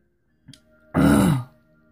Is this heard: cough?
yes